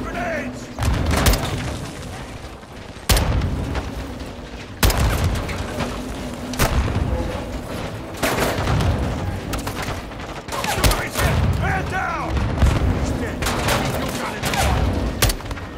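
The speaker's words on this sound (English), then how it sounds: "Incoming! Take cover! They're launching grenades!" Grenade explosions and gunfire in Call of Duty: Modern Warfare 3, repeated loud blasts and thuds punctuating steady crackling fire over about sixteen seconds, with voices shouting in the mix.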